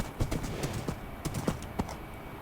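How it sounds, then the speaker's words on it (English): A horse's hooves clip-clop in the video game Minecraft, a steady, moderately loud series of sharp knocks at an uneven walking rhythm, with no one talking over it. "I have this little horse right here"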